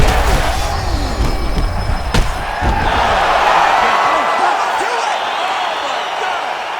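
Crowd cheering and roaring in the UFC 5 video game during a Glover Teixeira versus Jamal Hill fight, a loud, steady arena din with sharp impact thuds early on and commentary voices mixed in.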